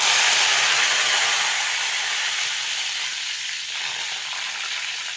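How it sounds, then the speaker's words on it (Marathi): Curry leaves hit hot oil already crackling with mustard seeds, giving a loud, steady, close sizzle that fades slightly but keeps hissing throughout, with no voices. "आपली मोहरी तडतडली आता आपण कढीपत्ता टाकू"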